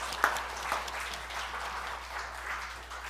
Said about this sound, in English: Let's give Marla a round of applause